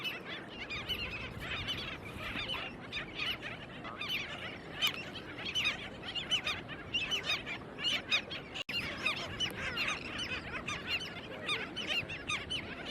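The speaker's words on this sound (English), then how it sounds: "All these birds." A flock of birds calls continuously on Lido Beach in Sarasota at sunset, overlapping honking and squawking cries, close and busy, with steady surf-like background noise and no voices.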